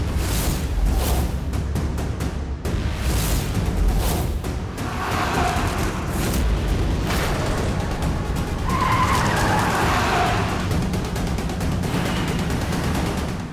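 A car races up from behind in a chase scene, engines roaring loudly with tires screeching and skidding in repeated bursts, a dramatic, continuous, close rush of vehicle noise.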